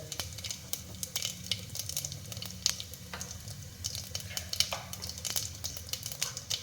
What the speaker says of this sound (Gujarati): તેલ ગરમ થઈ જાય ને એટલે હું પહેલાં જીરું એડ કરીશ, ફક્ત જીરું અને હળદર